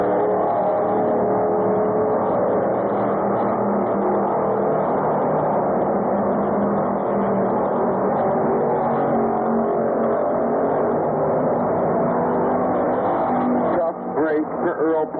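Race cars lapping a speedway oval in a 150-lap enduro championship at Orange County Fair Speedway, a steady loud engine roar that holds without a break, with a commentator talking over it throughout.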